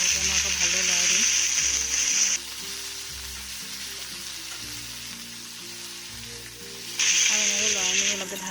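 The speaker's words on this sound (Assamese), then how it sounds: "তেলখিনি গৰম হোৱাৰ পিছত মই পিঁয়াজখিনি দি দিছোঁ আৰু অলপ নহৰু পিচি পিনি দিছোঁ, কেঁচা জলকীয়া দুটা দিছোঁ" Chopped onion, garlic and green chillies fry in hot oil in a pan, a loud, steady sizzle that drops lower in the middle and surges back, with stirring scrapes throughout.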